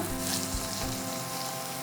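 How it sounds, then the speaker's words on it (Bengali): Jalebi frying in oil on medium heat, a close, even bubbling sizzle with a low thump partway through, brief and fairly quiet. "এখন মিডিয়াম আঁচে ভাজতে হবে"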